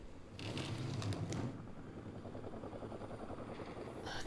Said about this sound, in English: Don't like that chopper.